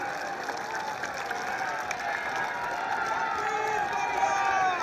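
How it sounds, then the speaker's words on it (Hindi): Crowd at a large Congress political rally against inflation cheering and clapping as the chief minister is welcomed, a broad roaring mass of voices and hands that swells slightly toward the end. "जरा जोरदार तालियों से मुख्यमंत्री भूपेश बघेल जी का स्वागत करें।"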